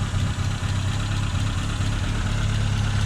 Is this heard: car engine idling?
yes